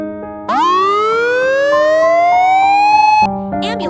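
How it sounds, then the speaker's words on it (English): An ambulance siren, loud and close, winds up into a sustained rising wail that holds, then cuts off abruptly; a short burst of other sound follows at the end. "Ambulance arrived and he was taken to the hospital."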